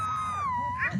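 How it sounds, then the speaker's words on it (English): A dog gives one close, sustained howl that slides slightly in pitch for about a second before breaking off into a shorter yelp. "She's howling."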